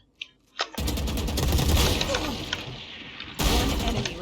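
A few sharp clicks, then a sudden burst of rapid gunfire in the video game Valorant rattles loudly for several seconds, pauses briefly, and erupts again.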